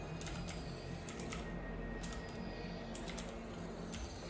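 Quick bursts of keyboard typing in a typing video game, short clusters of light clicks repeating about every second over a low steady background hum.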